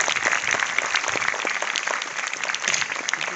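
At a thalassemia awareness carnival in Sargodha, a crowd claps warmly and continuously, a dense even wash of applause for a guest being introduced.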